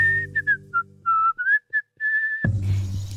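A person whistles a short tune in clear, separate notes and phrases, imitating a zookeeper, then a rustling clatter takes over at the end.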